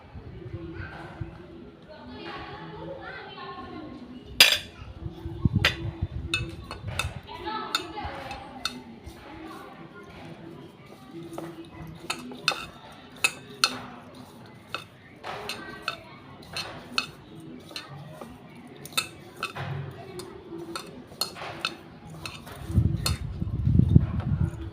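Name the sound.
mixing ingredients with ghee in a bowl for rasmalai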